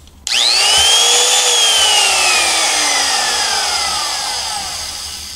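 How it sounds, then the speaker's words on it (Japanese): A wood trimmer router switched on, then cut off, its bit spinning down: sudden loud whine whose tones slide steadily downward over about five seconds as the motor coasts to a stop, fading gradually, no talk. "このトリマーは電源を入れて切っても大体のものがそのまましばらく回ってます。"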